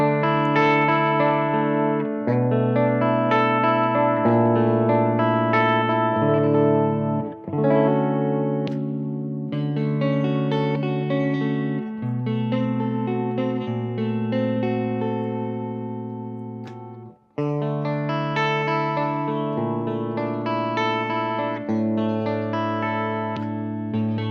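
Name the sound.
electric guitar with humbucker pickups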